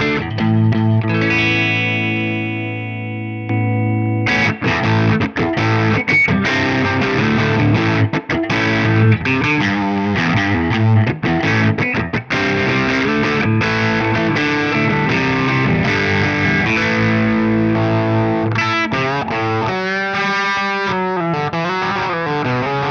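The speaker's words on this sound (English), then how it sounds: "here you can get some really dynamic fuzz tones and almost classic distortion with plenty of mid-range bite" A Caroline Wave Cannon Zero fuzz and distortion pedal on electric guitar, loud, saturated chords and sustained notes with gritty mid-range bite, played alone with strummed and picked phrases and brief pauses.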